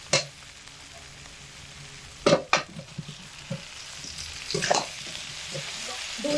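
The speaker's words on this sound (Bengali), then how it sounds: "এবার এর মধ্যে ভেজে রাখা ফুলকপি আর আলু একসঙ্গে দিয়ে দিলাম" Pre-fried cauliflower and potato pieces hit hot spice masala in a pan, sizzling steadily with several sharp stirring scrapes and clatters of the spoon.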